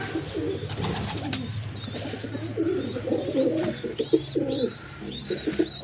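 Several pigeons coo in a loft, their low rolling calls repeating and overlapping close by, with a few brighter flutters and higher chirps mixed in over a steady low hum.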